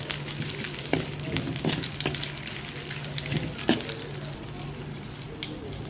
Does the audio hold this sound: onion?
yes